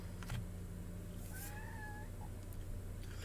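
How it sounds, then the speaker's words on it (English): A house cat meows in a drawn-out, rising cry, fairly close, over a steady low background hum with no talking. "My cat's screaming."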